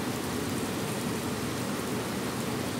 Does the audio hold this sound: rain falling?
yes